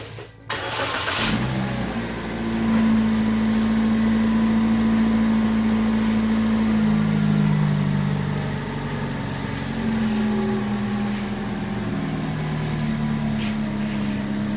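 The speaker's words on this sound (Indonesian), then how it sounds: "Saatnya untuk uji coba starting mesinnya." A 1500cc petrol car engine powered by a LiFePO4 32650 starter battery cranks briefly, catches and settles into a steady idle, close and loud, with the pitch shifting slightly as revs drift.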